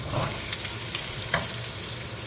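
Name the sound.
sautéing onion with potato and carrot in a pan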